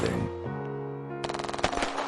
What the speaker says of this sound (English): the field lit up with tracers and fear. The child's voice was gone, only the sound of gunfire